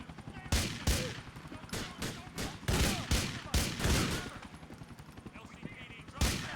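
Rapid gunfire from the video game Grand Theft Auto 4, repeated sharp bursts and single shots in an uneven rhythm, loud and close, with game voices talking between and under the shots.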